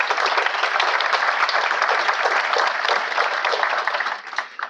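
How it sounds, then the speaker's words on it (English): An audience at an aviation recognition dinner gives a round of applause, a dense, steady wash of many hands clapping throughout the room that holds strong before thinning and dying down at the end. "let's give them a round of applause"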